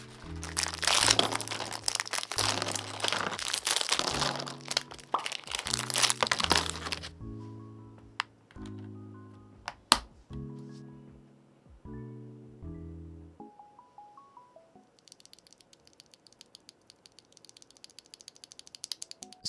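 Gateron-compatible magnetic switches pressed into a MADLIONS MAD60HE 60% keyboard, a run of close, crisp plastic clicks and ratcheting snaps in quick bursts, then sparser taps fading toward a faint, quiet tail.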